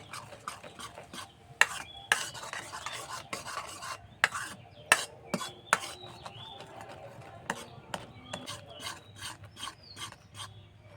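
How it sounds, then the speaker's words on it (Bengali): Caramel being stirred in a pan as it browns: faint, close scraping and rubbing with frequent sharp clicks of the utensil against the pan, continuing unevenly throughout. "তো এইভাবে নেড়ে নেড়ে আমি ক্যারামেলের কালারটা একটু ব্রাউন করে নেব"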